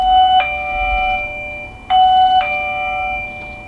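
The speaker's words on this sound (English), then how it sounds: "Well, the chime rings, that's for sure" An Arkmiido wireless video doorbell chime rings twice, each a loud, clear two-tone ding-dong that sustains and fades over a quiet background.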